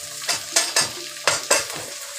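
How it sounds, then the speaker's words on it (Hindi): Onion stir-frying with garlic and chilli in a pan: a steady loud sizzle, with repeated scraping strokes of a spatula against the pan at an uneven rhythm, close by. "प्याज को भी ऐसे ही चला चला के अच्छे से भून लूँगी"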